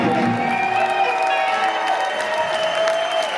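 Concert crowd at a show in Atlantic City applauding and cheering, with a dense, steady wash of clapping, whoops and sustained tones, loud and continuous throughout.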